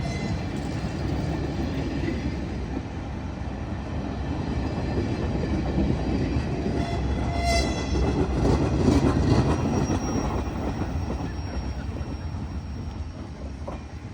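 Union Pacific Big Boy, the largest steam locomotive, rolls past near Oakwood, Ohio, its cars giving a steady rumbling clatter that holds loud and close for the whole stretch and swells slightly midway, with no talk.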